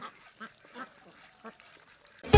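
Several short quacks come from ducks on a commercial farm in Netrakona, Bangladesh, spaced apart and moderately faint against a quiet background. A sudden loud thump ends the passage.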